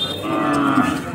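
A cow lows in one continuous, fairly loud moo at a large cattle market in Assam, with a faint crowd murmur behind it and no talk.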